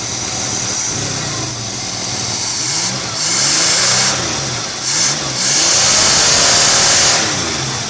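A carbureted GM HT 3.4 engine held at a fast idle, rising in a few revving swells and easing back between them, steady and close with no voices over it.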